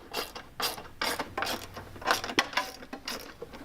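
A ratchet tightens a 10mm bolt on a mud flap bracket of a 2024 Can-Am Maverick R, giving close, rhythmic bursts of clicking strokes about every half second.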